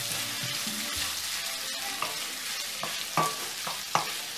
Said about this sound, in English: And then you stir it well.